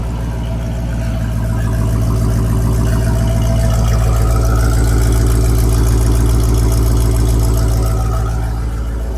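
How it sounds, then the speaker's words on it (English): A Jeep Grand Cherokee Trackhawk engine idles steadily with a low, rumbling exhaust burble that holds at a constant loud level throughout. "Let me show you guys the exhaust real quick."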